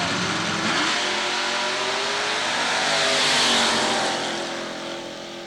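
A big block Camaro roars down a drag strip at a weekly dragway race, a loud sustained engine wail that swells and then fades as the car pulls away, with no talk over it.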